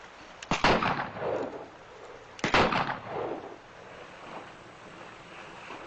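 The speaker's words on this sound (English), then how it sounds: "I shot twice, didn't I?" Two gunshots ring out about two seconds apart, each a sharp loud crack followed by a rolling echo that fades into a quiet outdoor background.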